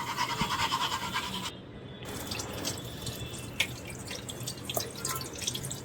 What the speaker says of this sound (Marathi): स्वच्छ पाण्याखाली छान धुतली